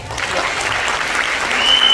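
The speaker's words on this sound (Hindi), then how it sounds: "तो एक ताली बनती है कि नहीं?" An audience at a women's empowerment programme breaks into steady, enthusiastic applause, a dense patter of many hands clapping together.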